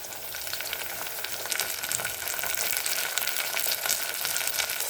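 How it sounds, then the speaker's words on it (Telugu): Cluster beans dropped into hot oil with curry leaves, a dense steady sizzle and crackle close up, slightly intensifying, with no talk over it. "ఇప్పుడు మనం గోరుచిక్కుళ్ళు వేసుకుంటున్నాం."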